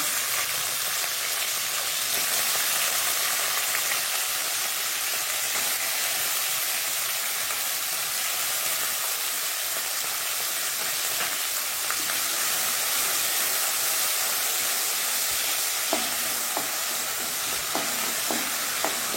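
Soaked sabudana (tapioca pearls) frying in a pan over a medium flame, giving a steady, dense hiss and sizzle with faint scraping near the end, and no voices.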